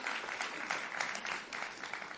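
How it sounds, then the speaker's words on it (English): Applause from an audience at a food systems innovation award ceremony, a short steady patter of many hands clapping at moderate level. "you can give a round of applause for that"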